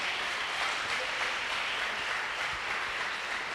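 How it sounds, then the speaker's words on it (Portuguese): A church congregation applauds together, a steady dense wash of clapping that fills the room evenly from start to finish, moderately loud, with no voices over it. "Aplauda o Senhor Jesus."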